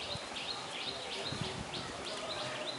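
A male pigeon gives soft repeated coos and chirpy notes in a steady rhythm, faint against a noisy background with some low rustling.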